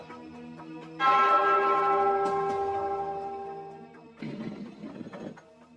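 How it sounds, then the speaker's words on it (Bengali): A bell in a Gopal Bhar Bangla cartoon strikes with a bright, ringing tone that slowly fades, then gives a second, shorter and duller clang near the end. "ওই ঘন্টাটা বাজাও, বাজাও।"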